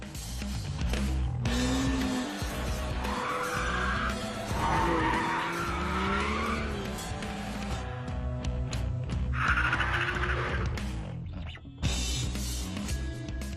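A BMW M car drives hard on a race track, its engine revving while the tyres squeal and skid loudly in long sweeping bursts across the whole stretch.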